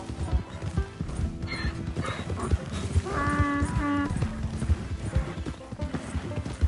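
Donkey hooves clopping in Red Dead Redemption 2, a close, steady clatter with a loud, harsh braying call breaking out partway through before the hoofbeats carry on.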